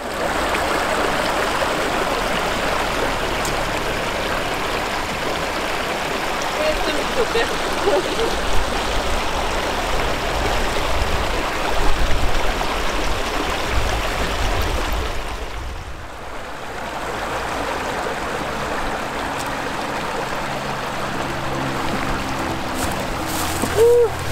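A mountain river in the Scottish Highlands near Beinn an Lochain flows steadily at a hiking-trail crossing, a broad, continuous rushing of water that fills the whole stretch and dips briefly near the end.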